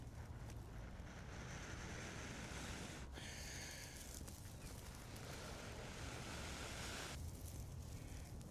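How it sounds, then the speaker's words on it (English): Steady wind gusting against the microphone, a continuous low rushing roar with no voices. "It's kind of windy out here."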